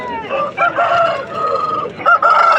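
A rooster crows loudly and close by at a poultry market in Vijayawada, with a long drawn-out call followed by a second crow starting.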